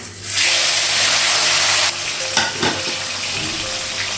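Tomato frying in a pan with panch phoron: a loud, close sizzle bursts up as the tomato hits the hot oil, then settles into steady frying with a few scraping stirs.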